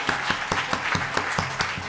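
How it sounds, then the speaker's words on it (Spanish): A concert audience claps for a pianist in a fast, even rhythm, with sharp, loud beats landing in unison about five times a second. "Un aplauso mucho más fuerte para él."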